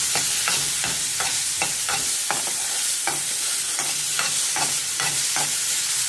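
Onion, garlic, tomato and chilli are stirred and roasted in a pan: loud, rhythmic scraping strokes roughly twice a second over a steady sizzle, close up with no talking.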